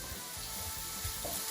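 Onions sautéing in a little oil for a beef bolognese filling, a steady close sizzle with soft rhythmic bumps from stirring, no voices.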